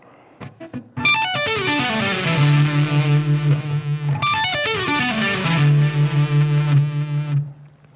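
Distorted, effect-laden electric guitar lick played at full speed, rapid cascading notes falling to a sustained wavering low tone, heard twice back to back, loud and unaccompanied.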